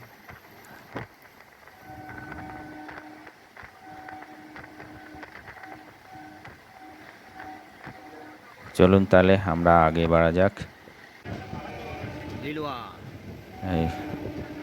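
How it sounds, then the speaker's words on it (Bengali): Steady rumble of a train running at full speed near Kolkata on a rainy morning, with rhythmic clatter, someone talking over it, then a loud horn blast near the end. "আমাদের ট্রেন এখন ফুল স্পিডে চলছে"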